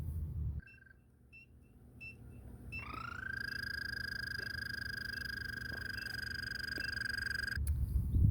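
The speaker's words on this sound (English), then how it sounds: "That is the American toad." An American toad's long, steady high-pitched trill rings out for several seconds, calling from the water, preceded by a few faint short chirps, over a low background rumble.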